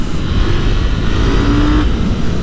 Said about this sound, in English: What an engine!